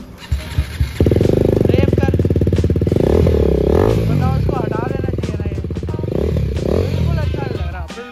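A motorcycle engine cranks a few times, catches and settles into a loud, steady idle with small rises in revs, close by.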